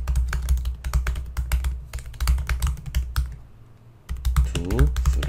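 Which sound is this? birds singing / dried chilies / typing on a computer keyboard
typing on a computer keyboard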